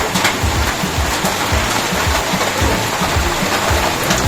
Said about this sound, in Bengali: তো বিশাল বৃষ্টি হচ্ছে, কিন্তু আওয়াজ শুনতে পাচ্ছে নিশ্চয়, কর্কেটের গায়ে পড়ছে, জোর বৃষ্টি এসছে।